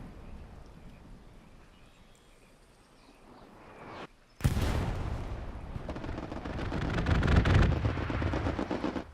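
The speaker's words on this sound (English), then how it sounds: "Uru comes in clutch with the hipfire MG there." Machine gun fired from the hip in the console game Hell Let Loose, a quiet stretch broken by a sudden loud burst of rapid gunfire that rolls on densely for several seconds with heavy rumbling blasts.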